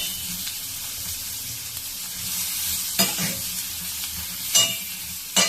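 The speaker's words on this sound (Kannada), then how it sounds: "ಇದಕ್ಕೆ 1 ಈರುಳ್ಳಿ ಕಟ್ ಮಾಡಿ ಇಟ್ಕೊಂಡಿರೋದು. ಇದು ಸ್ವಲ್ಪ ರೋಸ್ಟ್ ಆಗಬೇಕು" Chopped onion sizzles steadily in a pan on the stove for chicken sukka, a constant frying hiss broken by three sharp scrapes of a spatula.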